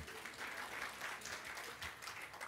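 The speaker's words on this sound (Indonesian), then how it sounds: "Tepuk tangan buat Tuhan Yesus" Soft applause from a church congregation during a sermon, a steady patter of many hands heard from a distance at low level.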